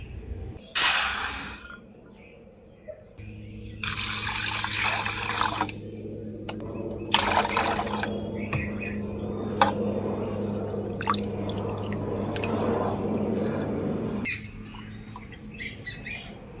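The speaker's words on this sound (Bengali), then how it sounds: "চালটাকে আমি 2-3 বার জল পাল্টে ধুয়ে নিয়েছি" Gobindobhog rice is rinsed in a bowl with water, giving splashing, trickling and dripping sounds in several bursts of swishing, with running water and faint kitchen clatter between them.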